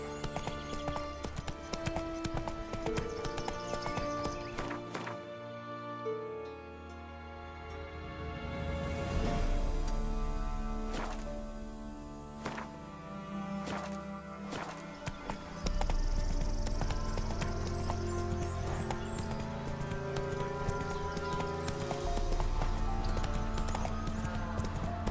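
Hoofbeats of Roach, Geralt's horse in The Witcher 3, clip-clop in a steady galloping rhythm over layered game music, with a brief whinny and occasional ambient effects.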